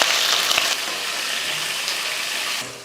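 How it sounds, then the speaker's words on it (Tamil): Onions with curry leaves and green chillies sauté in hot oil in a pan, a dense steady hiss close up with one sharp knock early on, fading slightly toward the end. "வெங்காயத்தை இந்த அளவுக்கு வதக்கிக்கணும், ரொம்ப கருக விடாமல் நல்லா இந்த மாதிரி வெள்ளையாகவே வதக்கி எடுத்துக்கணும்"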